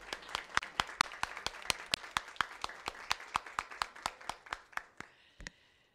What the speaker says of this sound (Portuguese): Palmas para Erundina.